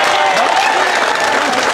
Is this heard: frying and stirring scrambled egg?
no